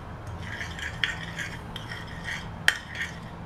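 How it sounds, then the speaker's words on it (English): A utensil stirring a garlic naan base in a bowl, soft repeated scraping strokes with a couple of sharper clinks against the side, close and fairly quiet, with no talking. "And now I'm gonna stir up our base"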